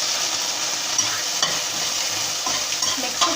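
Popcorn being stirred in a pan with tomato puree over a flame, a steady soft sizzle and scraping with a few sharper clicks of the spoon against the pan, no talking.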